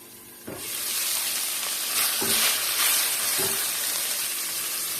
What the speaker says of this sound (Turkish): Sürekli karıştırarak yeşil fasulyelerimin rengi iyice dönene kadar kavuruyorum.